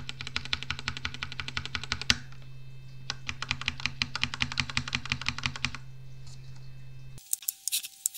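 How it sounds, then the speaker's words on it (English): Rapid, even clicking of keys on a computer keyboard, pressed repeatedly while parts of a token design are adjusted for an xTool M1 laser, a steady run of close taps that pauses briefly and then resumes before stopping. "Use the arrow keys, the up and down arrow keys."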